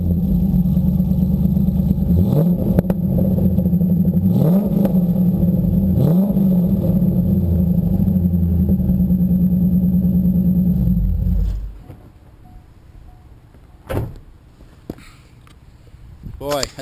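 A car engine revs repeatedly in the shop, a loud, deep exhaust note rising and falling in several throttle blips over a steady idle, then cutting off abruptly, leaving quieter shop sounds and a few knocks.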